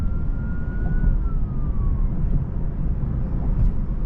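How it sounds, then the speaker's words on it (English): An ambulance siren passes on a downtown Houston street, heard from inside a Tesla running Full Self Driving. Its wail is faint and distant, a single slow falling tone riding over steady low road and cabin rumble. "we still stopped for like a good 3 to 5 seconds while that ambulance went by"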